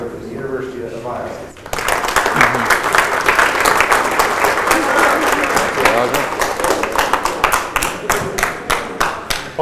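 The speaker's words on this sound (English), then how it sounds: "I always say when people applaud first that you'd better wait until what you get before applauding" An audience at a 1998 college astronomy lecture claps steadily to welcome a university lecturer after his introduction, the dense applause starting abruptly and continuing without pause before thinning into separate claps near the end.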